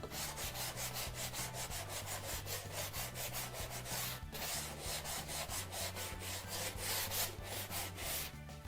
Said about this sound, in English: We're done hand sanding everything, knocking down the high spots